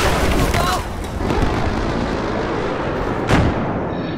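A missile explosion in the video game Battlefield 4, heard as a steady roar of battlefield rumble with a sharper blast near the end, loud and close, with a voice talking underneath.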